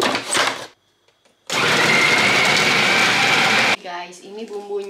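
An electric grinder whirs loudly for a couple of seconds as it grinds onion and spices for soy-sauce chicken, with short bursts before and after the main run.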